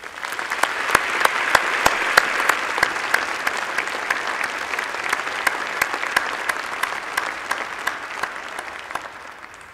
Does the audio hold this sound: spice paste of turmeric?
no